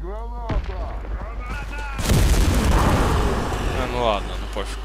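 A grenade blast in the video game Warface, a loud booming explosion that erupts midway and rumbles on for a couple of seconds, with gunfire and a player talking around it.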